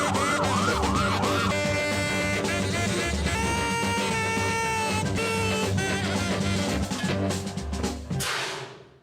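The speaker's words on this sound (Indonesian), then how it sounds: "Udin dengan sengaja mengaktifkan alarm kebakaran" A fire alarm set off on purpose inside a prison wails in a rising and falling siren at the start, then sinks under loud, dense dramatic music that fades out at the end.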